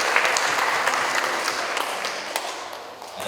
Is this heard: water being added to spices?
no